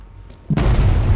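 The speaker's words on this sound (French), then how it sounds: "Je devrais m'éloigner avant de déclencher l'explosion" An explosion in the Batman: Arkham Knight video game, a sudden loud blast after a quiet moment that leaves a dense, rumbling roar sustained to the end.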